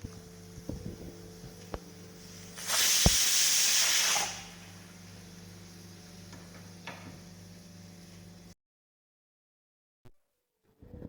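Pressure cooker cooking pasta on the stove, a low hum with faint ticks, then a loud burst of hissing steam for about a second and a half before settling back to a quieter hum.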